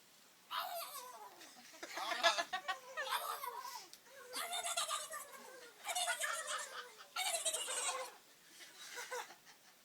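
A man mimics a turkey with his voice, producing five loud bursts of warbling, gobbling calls separated by short pauses, close and clear.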